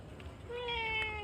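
A cat at a shop door lets out a single drawn-out meow, fairly close and quiet, rising in the second half of a short, otherwise calm moment.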